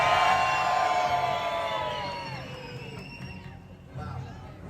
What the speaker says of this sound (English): the signal has to be screamed loud as humanly possible